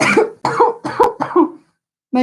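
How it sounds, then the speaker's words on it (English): Person on a virtual quiz coughs in a close, loud series of four harsh bursts, then a short pause and a brief final cough. "I will try not to die from a cough."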